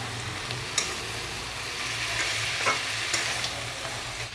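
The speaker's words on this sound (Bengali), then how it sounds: "দিয়ে এবার ভালো করে এটাকে কষাতে হবে।" Crab masala with a pinch of sugar being sautéed and stirred in a pan, a steady sizzle with a low hum and occasional spatula scrapes and taps.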